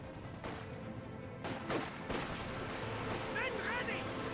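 Artillery barrage in the real-time strategy game Company of Heroes 2, several heavy booming shell impacts spaced a second or so apart over a rumbling battlefield background.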